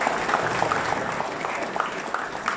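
Outdoor event audience gives a hearty round of applause for a wine festival ceremony, dense clapping with faint crowd murmur and some speech mixed in.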